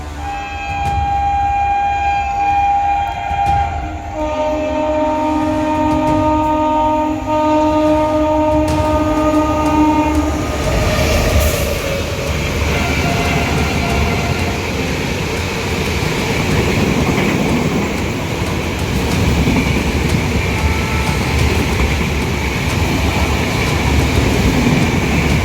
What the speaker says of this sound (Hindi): अब सामने से तो गुड्स ट्रेन आ रही है